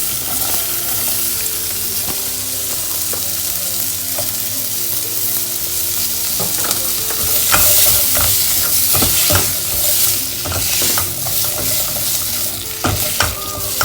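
Butter with onion and garlic sizzling in a pan for leek and potato soup, a steady close-up crackle with occasional stirring clinks, continuing throughout with no talk.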